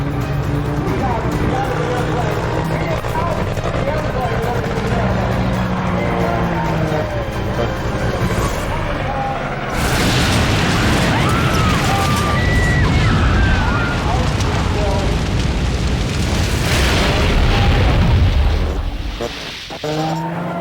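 A Corsair fighter plane's 3,000-horsepower engine breaks apart in the air at 2,500 feet, with a sudden loud crashing roar that rises over a continuous rumble. A narrator talks throughout.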